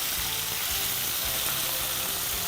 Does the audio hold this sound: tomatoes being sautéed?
yes